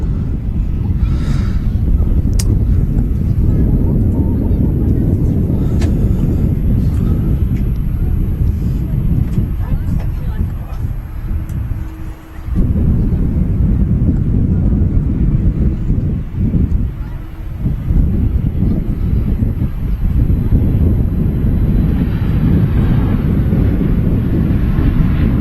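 Near-constant low roar of wind buffeting the microphone outdoors at Manchester Airport as a plane lands in choppy wind, its rumble blending into the gusts with brief dips in level; a voice speaks briefly.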